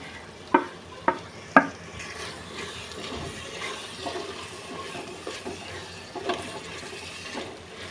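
A spoon stirring salt, chili powder and coriander powder into a Chettinad fish curry base with tomatoes: three sharp metallic taps against the pot, then soft scraping and a wet, faintly sizzling mix, with no talking.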